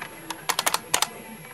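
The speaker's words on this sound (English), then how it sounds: "so for example I'll go ahead and type in New York here," A short run of crisp, loud keystrokes on an IBM Model M mechanical keyboard hooked to a Dell Optiplex 755, about eight clacks in quick uneven succession.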